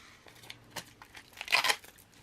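Paper pulled through a sticker maker gives a brief close crinkle and scrape, a few soft rustles building to a louder dry rasp near the end, alone and fairly quiet.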